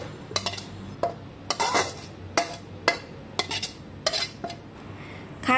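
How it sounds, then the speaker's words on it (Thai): Stir-fried basil pork from a one-kilogram batch is scooped into a tray, with repeated scraping and clattering of a metal spoon against the pan and tray, about nine sharp strikes at an irregular rhythm and close by, with no talking. "เสร็จแล้วก็นำมาตักใส่ถาดรอไว้เพื่อทำการห่อค่ะ"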